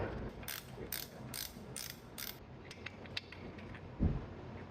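A ratchet works a bolt loose from the power steering pump of a 2004 Honda Accord, a short burst of fast clicking strokes up close, followed by scattered metallic taps and a dull knock.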